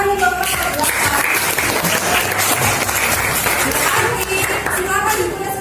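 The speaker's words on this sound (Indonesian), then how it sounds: "tepuk tangan untuk kelompok 8." Students in a classroom clap for a group after a chemistry practical, continuous lively applause filling the whole stretch, with a teacher speaking over it at the beginning and end.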